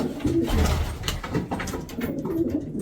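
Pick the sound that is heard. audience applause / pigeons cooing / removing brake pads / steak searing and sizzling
pigeons cooing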